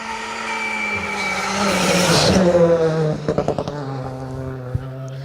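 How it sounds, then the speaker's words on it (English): A Citroen C3 Rally 2 rally car on an asphalt stage, its engine droning and rising on a fast approach to a jump, then sharp bangs and pops off the throttle into a left-hand bend, close and loud. "Citroen C3 Rally 2. It's a real fast approach to this jump, and the car goes around a left-hand bend"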